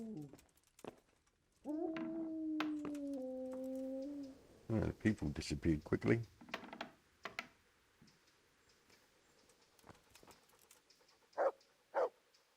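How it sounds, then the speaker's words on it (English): A dog in the medieval video game Kingdom Come: Deliverance gives a drawn-out whine, then a quick flurry of close barks, with someone talking before and after. "Oh, the dog."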